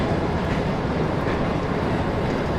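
A train runs and brakes in the video game Running Train, making a continuous, loud, steady rumble with no distinct beats, with no one speaking over it.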